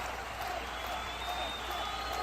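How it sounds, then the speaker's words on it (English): Steady crowd roar with scattered applause from spectators gathered along a stream to cheer a marble rafting team, loud and continuous throughout without pauses. "And now, a roar from the crowd."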